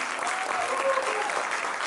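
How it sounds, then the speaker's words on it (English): A short burst of audience applause at a Guru Poornima quiz gathering in Auckland, even clapping from a modest crowd lasting about two seconds with faint voices underneath. "Let's give her a round of applause"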